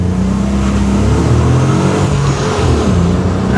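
A car in gendarmerie livery revs its engine close by, a loud steady roar that swells and holds for a few seconds with no talking over it.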